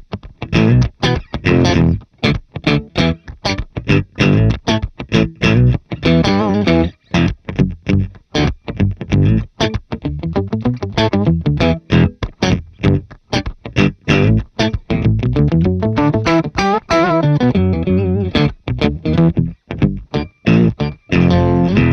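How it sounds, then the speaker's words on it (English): An electric guitar runs through the Archetype Gojira plugin with a clean amp and an octave effect set one octave down, playing a fast, choppy riff of clipped notes and chords with short gaps between them. "we're just engaging the octave, just one octave down, clean amp, and then nothing"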